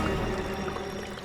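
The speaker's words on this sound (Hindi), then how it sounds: "ये पानी की आवाज आ रही है," Water near a pond in a quiet outdoor spot, a brief steady wash of pouring, trickling sound that stays fairly even and close throughout.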